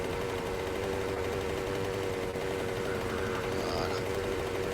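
A motorbike engine in the video game 7 Days to Die runs at a steady, droning hum with a fixed pitch, fairly quiet and unbroken throughout.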